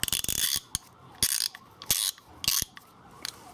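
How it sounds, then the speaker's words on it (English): A 1/2 inch ratchet from a Harbor Freight mechanics set clicks in short ratcheting bursts, several quick runs of crisp pawl clicks separated by brief pauses, close and alone. "And of course, the 1/2 inch ratchet."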